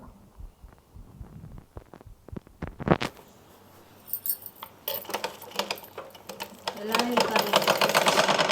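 A sewing machine stitches fabric for churidar pants, beginning with scattered light clicks and then settling into a steady, fairly close whirring run, with a voice talking over it.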